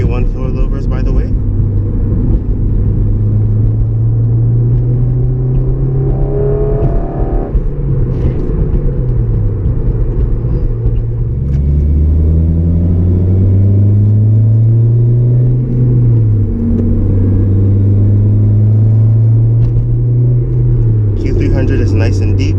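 A 2009 Honda Civic Si with a Q300 exhaust and K-Tune K1 coilovers drives along, its deep engine drone rising and falling steadily through gear changes from the cabin, with someone talking briefly over it.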